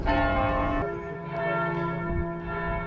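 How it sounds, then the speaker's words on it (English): Church bells ringing at 11 AM in Brno, sustained and resonant tones with overlapping strikes that hum and decay, loud and alone without voices. "The bells going off at 11 AM."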